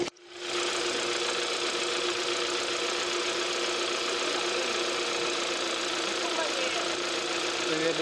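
A Kia Theta2 GDI engine runs at a steady idle after its pump was replaced, a continuous even mechanical hum and whir with a faint ticking texture, close and unbroken for several seconds.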